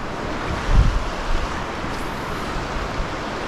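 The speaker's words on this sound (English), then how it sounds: "Water's flowing really fast." Fast-flowing river water rushes through Kern River Canyon as a steady, dense broadband wash, close and continuous, with a brief low thump near the start and no talking.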